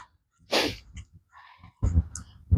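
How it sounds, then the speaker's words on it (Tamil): A single sharp, close sneeze with a quick breath in before it and breathy sounds and movement noise after it. No talk is heard. "தும்மல் வருது"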